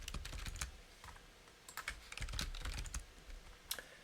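Typing on a computer keyboard, with rapid clusters of crisp key clicks in irregular bursts and a short pause before a second run of keystrokes, heard alone at a moderate level.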